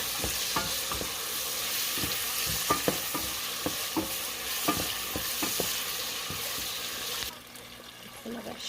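A cooking pot warming on the stove for Haitian bread soup gives off a steady sizzle, with scattered clinks and scrapes of stirring, until the hiss drops away near the end.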